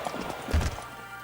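Racehorse hooves drumming on the track in the PS2 game Gallop Racer 2004, a dense clip-clop rhythm from several horses that swells briefly in the middle, heard alone without talk.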